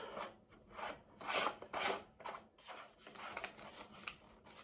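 Threaded silencer tube screwed onto a Mini UZI 4.5 mm Umarex airgun, close-up rasping scrapes of the threads turning in several short strokes, fairly quiet.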